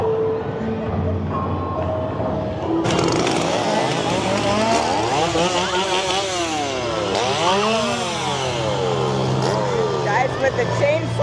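Chainsaws roar and rev repeatedly at a Halloween Horror Nights scare zone, their engine pitch sweeping up and down, loud and close amid crowd noise.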